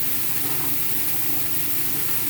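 Ground turkey sizzles in a hot pan, a steady broadband hiss and crackle heard close up without pause.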